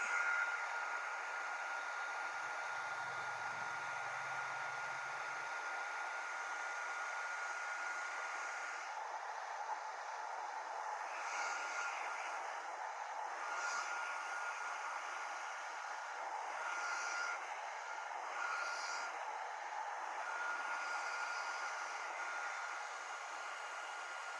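A hair dryer blows hot air onto an old, long-stuck sticker to soften its glue, a steady close whooshing hiss running unbroken throughout.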